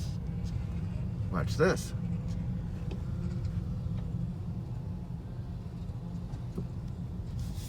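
A Toyota Corolla Hatchback XSE makes a tight turn, its low engine hum steady and close throughout, with a brief spoken remark and a few faint clicks early on.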